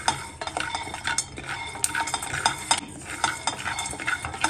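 Peanuts roast in a dry pan as a spoon stirs them repeatedly, giving rapid rustling, rattling and scraping bursts with clinks against the metal. The sounds are close and play with no talk.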